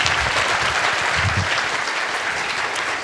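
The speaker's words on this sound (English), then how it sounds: "let's give them a big round of applause" Audience applause closing a neuroscience and neural engineering fireside chat, a full, continuous burst of many people clapping at steady loudness, with a little low rumble from the room beneath it.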